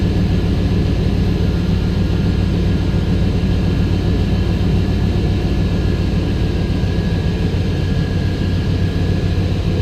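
GMC Sierra pickup engine idling after a fuel pump replacement, a steady low rumble with constant loudness and no voices, running alone throughout.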